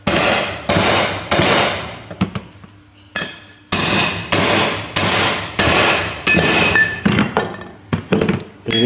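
A hammer strikes repeatedly as a bearing is driven onto a Massey Ferguson 135 Multipower rear axle, a run of loud metallic blows at a steady pace, ringing with a clinking tone that shifts partway through.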